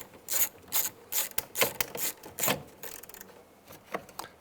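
Ratchet tightening a bolt on the interior door of a 2002-2009 Chevy Trailblazer, a close series of quick clicking bursts in an uneven rhythm, fairly quiet and with no talking.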